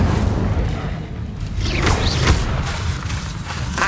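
Incendio fire spell cast in Hogwarts Legacy, a dense whooshing burst of flame over a rumbling low boom, continuous and loud with a swishing sweep partway through, no voices.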